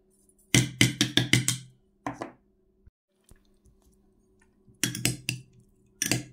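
Cracked green olives are stirred in a bowl with grated garlic and thyme, making short bursts of close clattering clicks separated by quiet pauses.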